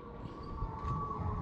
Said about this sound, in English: we gotta wait for the sirens